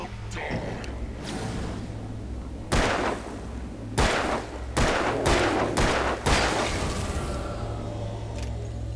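Gunfire from a revolver in the Alan Wake video game, a run of loud, sharp shots, some spaced and some in quick succession, over a low droning game soundtrack, with a little voice in the background.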